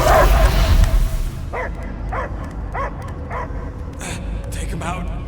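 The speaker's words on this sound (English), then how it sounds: "I hear only barking." In the Guardians of the Galaxy video game, a dog gives a series of short barks and yips at a moderate distance, heard over a low ambient game soundscape after a loud opening burst.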